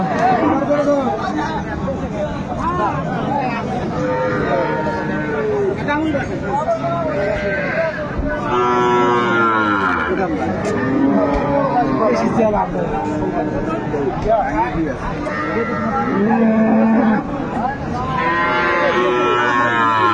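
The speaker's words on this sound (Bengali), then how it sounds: "বেশ সুন্দর গাভী বাছুর আমরা দেখছিলাম।" Cows with their calves moo repeatedly at a busy rural cattle market, Aftabganj haat, the loud lowing rising and falling over a constant hubbub of crowd chatter and bargaining voices.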